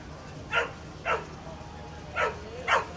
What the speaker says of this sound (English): He's barking at that dog.